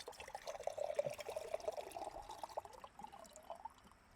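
Tap water pours and trickles into a cup to drink, a soft, steady near splash with a slight drip at the end.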